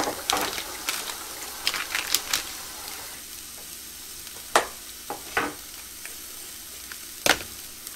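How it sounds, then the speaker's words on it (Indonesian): Spices for sayur lodeh sautéing in a pan, a soft steady sizzle broken by sharp scraping clicks of stirring, busier at first and then sparser, with no talking. "tumis dulu bumbu-bumbunya. Pakai bumbu lodeh."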